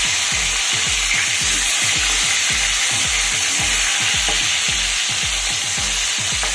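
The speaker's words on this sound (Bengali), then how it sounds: "1 মিনিট মতো একটা পিস মাছের ভেজে নিয়ে আমি মাছগুলোকে এবার উল্টে দেব।" Pieces of aar fish fry in hot oil with a loud, constant sizzle, joined by a steady rhythm of low thumps underneath.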